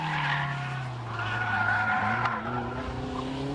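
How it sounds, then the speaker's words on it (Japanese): A race car drifts and skids with loud, sustained tire squeal after the handbrake is pulled to fight heavy understeer, its engine droning steadily underneath throughout. "あまりのアンダーにサイドブレーキを使い出したドリドリ"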